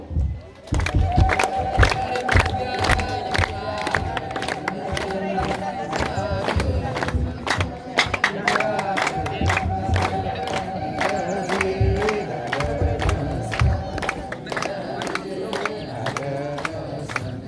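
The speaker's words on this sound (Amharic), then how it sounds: "እልል እያላችሁ" A crowd at a church wedding ceremony holds a sustained, high trilling ululation, joined by steady rhythmic clapping and cheering. The sound is loud, full and unbroken throughout.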